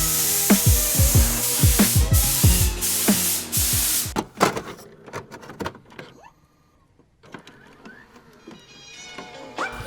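Primer sprays onto a 1984 C4 Corvette in a few loud hissing bursts close by, followed by quieter clicks, knocks and rustling as spraying pauses.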